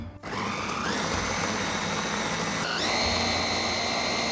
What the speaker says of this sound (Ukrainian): Я буду перебивати ось таким блендером.